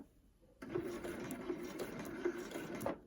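A sewing machine stitches a flat sleeve insertion close by, running in a steady, continuous whir that starts abruptly and carries on for several seconds.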